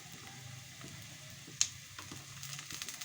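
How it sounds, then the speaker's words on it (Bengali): Spice paste frying in a pan for carrot and cabbage pilaf makes a faint, low sizzling hiss, with a single sharp tap and a few soft stirring sounds, quiet and close. "পেস্টটা আমার কিছুটা ভাজা হয়ে গেছে, এখন দিয়ে দিচ্ছি"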